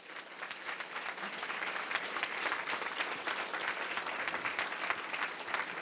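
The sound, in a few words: applause for the school staff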